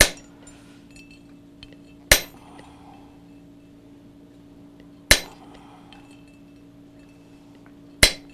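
Metal is chiseled with a hammer at a blacksmithing demonstration: four sharp, ringing strikes spaced a few seconds apart, each decaying quickly over a faint steady hum.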